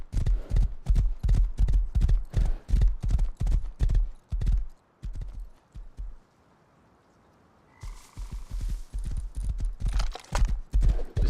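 Steady clip-clopping of horse hooves in the Rust survival game, a fast regular trot close by that stops for a couple of seconds, then resumes alongside a brief hissing burst.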